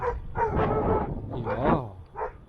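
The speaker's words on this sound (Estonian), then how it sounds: "Järgmine koer, aga ma ei näe teda." Dog barking a few times in short bursts, fairly close and moderately loud, outdoors in the Estonian countryside near Juuru during a bicycle trip; a voice can be heard alongside the barks.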